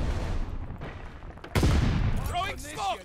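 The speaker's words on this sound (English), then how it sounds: "I was shooting at someone" Gunfire in Call of Duty Vanguard, a sudden burst of rapid shots breaking over a low background, followed by a voice talking excitedly.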